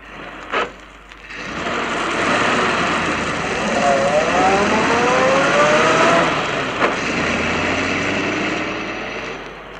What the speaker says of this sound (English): All right, start driving, Mel.